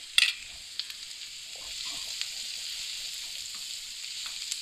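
Vegetables sauté in a hot pan for white sauce pasta, seasoned with salt and chili flakes, giving a steady close sizzle with a sharp utensil clack at the start and a few soft stirring taps.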